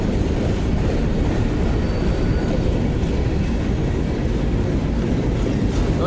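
A BNSF manifest freight train, westbound at La Crosse, Wisconsin, behind BNSF diesel locomotives, rolls past close by with a loud, steady, continuous rumble and rattle of cars the whole way through, with no talking.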